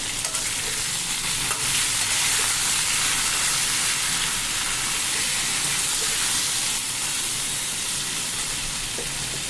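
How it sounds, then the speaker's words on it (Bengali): Cumin seeds and green chillies tempering in hot oil, a loud, constant hissing sizzle that stays even and unbroken for nearly ten seconds. "জিরে আর কাঁচা লঙ্কা ফোড়ন দিলাম"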